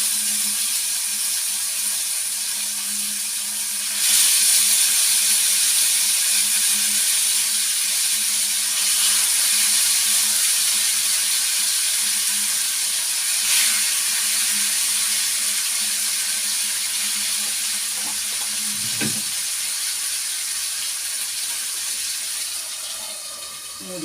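Masala with green peppercorns frying in a covered pan, a steady close hiss and sizzle running throughout with faint clinks and one brief louder knock near the end.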